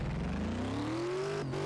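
A supercharged V8 sports car in Car Mechanic Simulator 2018 revs up on a track day, its engine note climbing steadily in pitch, loud and alone, with a brief dip near the end.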